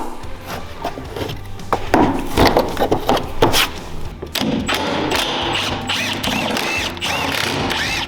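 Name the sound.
removing plastic push clips from a Honda Talon trim panel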